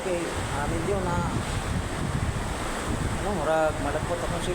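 Typhoon Tino's gusts batter a flooded road in Consolacion, Cebu, a loud, steady wind rumble over rushing floodwater, with brief wavering tonal whistles rising through the din.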